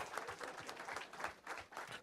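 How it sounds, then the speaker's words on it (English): An audience at a gathering bursts into sustained applause, with dense clapping holding steady and close throughout, with faint voices mixed in. "Let's give him a hand for that thing."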